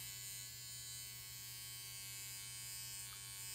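Babyliss Rose Gold FX hair clippers run in a steady, close electric buzz with a constant hum that holds throughout, with no talking.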